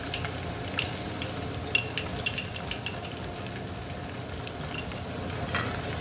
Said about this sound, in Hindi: प्याज ऑलमोस्ट गोल्डन फ्राई हो चुके हैं, ब्राउन।